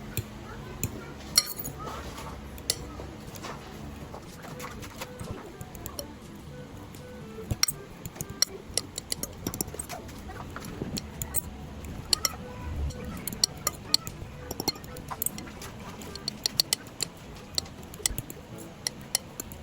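A utensil mashes four boiled eggs in a bowl for egg sandwich filling, producing steady close clinks and scraping taps, with a voice talking at times.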